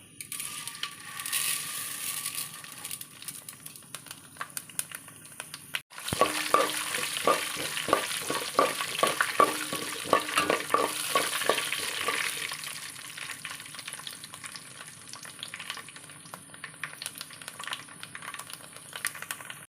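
Seeds and rice crackle and splutter in hot oil in a pan, a close, busy sizzle. A sharp clack comes partway through, then a dense run of rapid pops and stirring scrapes that gradually thins back to a steady hiss.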